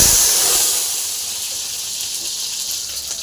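Onions going into hot oil for a potato and horse gram curry, with a sharp hissing sizzle that starts loud and settles into a steady, fainter steam hiss.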